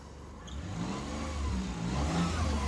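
A diesel car engine revs hard close by, a deep, steady roar that swells slightly toward the end, with no voices over it.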